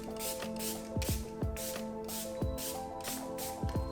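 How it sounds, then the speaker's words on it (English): Milani Make It Last Original Setting Spray is spritzed onto a face in a series of close, soft hissing bursts over a steady background with tonal hum, each puff brief and repeated at a loose rhythm. "went in with the same Milani Make It Last Original Setting Spray. Spritz that over"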